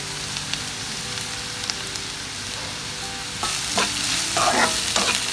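Curry leaves dropped into hot oil for Thakkali thokku, a tomato relish, give a loud steady sizzle and crackle that swells as they are stirred, with scraping stirring strokes near the end.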